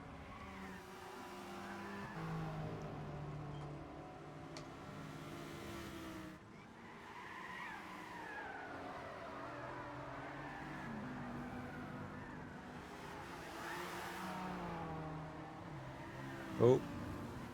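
Race car engines in a Gran Turismo game at Spa-Francorchamps, heard on board a Nissan R89C-style T9 Nismo: steady engine drone with rising and falling pitch sweeps, a brief sharp squeal near the end, under continuous commentary.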